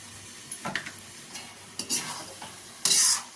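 Carrot halwa with butter stirred in a pan over low heat, a few scraping spoon strokes and soft sizzling bursts, the last stroke loudest, close by with quiet gaps between.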